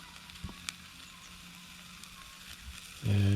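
Steak pinwheels sizzle on a Firebox stove with a soft, steady crackle, then a louder low hum takes over near the end.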